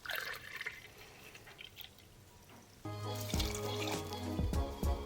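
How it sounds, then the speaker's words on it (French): White rum poured into a cocktail glass for a mojito with mint: faint dripping first, then a brighter, louder liquid trickle for the last couple of seconds, with no voices. "On ajoute ensuite nos 5 centilitres de rhum blanc."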